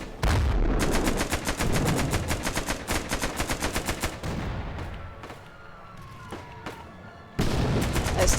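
Rapid bursts of gunfire from a Roblox World War 1 trench battle game, a loud sustained stream of repeated shots with a brief lull near the end before the firing resumes.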